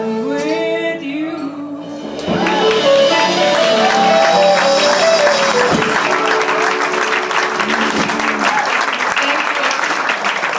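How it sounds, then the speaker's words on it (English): Sung music ends and an audience at a small club applauds after the song, with steady clapping and some cheering lasting several seconds while singing or speech trails off at the start. "And you're all clapping for us."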